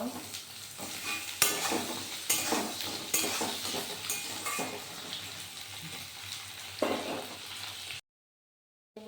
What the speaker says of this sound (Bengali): এরকম করে আলুটা আমি সুন্দর করে ভেজে নিব